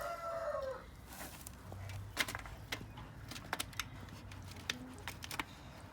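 Chickens in a backyard coop on a homestead, with faint scattered clucks and sharp little pecking and scuffling sounds over a quiet background, and a distant crow early on.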